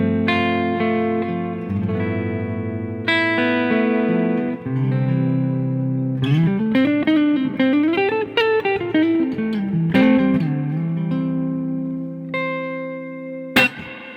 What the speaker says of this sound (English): If I do that with the reverb